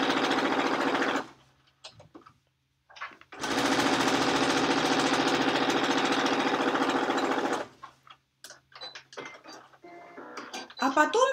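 A sewing machine stitches narrow binding strips onto the edges of a pillowcase in two rapid, close runs, one short and one longer, separated by quiet handling noises. A voice speaks briefly in the gaps.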